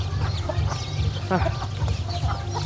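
Red junglefowl clucking close by in a series of short calls, with a person talking over the bird sounds.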